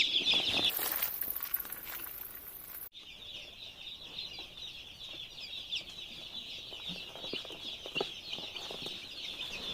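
Broiler chicks, just delivered and stressed from heat after a long trip, chirp steadily inside a carton, a dense continuous high-pitched peeping that stays moderately loud with no talking.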